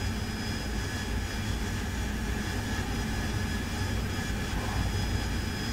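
An AV-8B Harrier jet engine roars in a steady, dense, loud drone during a vertical landing in the DCS World flight simulator game, with no talking.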